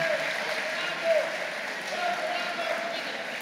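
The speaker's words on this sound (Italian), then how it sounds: "Ancora un applauso." Audience applause follows a brass band concert by the Fagagna band at an anniversary celebration, a steady wash of clapping that holds evenly across the whole stretch with no voices over it.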